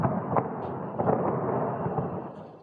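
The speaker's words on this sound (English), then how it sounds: "The sound of explosions piercing the night." Missile strikes over Tehran at night send out a continuous distant rumble of explosions, with several duller booms rising out of the steady low roar.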